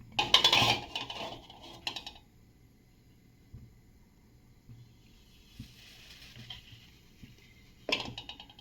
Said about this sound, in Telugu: ఇప్పుడైతే స్టవ్ ఆన్ చేసుకొని కళాయి అయితే పెట్టేసుకుందాం